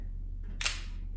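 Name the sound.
camera shutter button pressed in bulb mode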